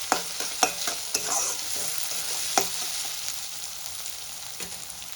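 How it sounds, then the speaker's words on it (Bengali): Onions sizzle in a hot pan for a chicken dish, a steady close frying hiss broken by several sharp scraping strokes of a stirring spoon, no voices. "আর পেঁয়াজটা আমি খুব লাল করে ভাজবো না।"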